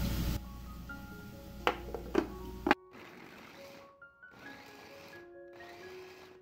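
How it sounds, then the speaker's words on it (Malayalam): An onion is ground in an electric chopper: a whirring motor run with clattering knocks, then several shorter whining pulses of the blade, close by. "അതേ ചോപ്പറിൽ തന്നെ ഞാൻ ഒരു സവാള ഒന്ന് പൊടിച്ചെടുക്കുകയാണ്"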